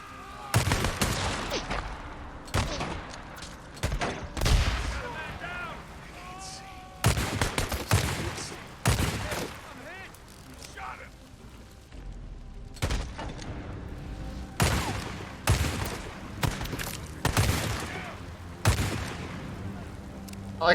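Repeated bursts of gunfire from shooting in the video game Days Gone, loud volleys recurring every couple of seconds with brief lulls and faint voices in between.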